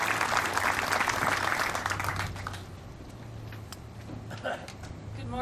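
Applause for the Clay County Board of Commissioners at a law enforcement center ribbon cutting. Steady clapping from the gathered audience fills the room for about two seconds, then fades to quieter room noise with faint movement.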